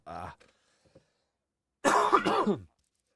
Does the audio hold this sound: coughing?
yes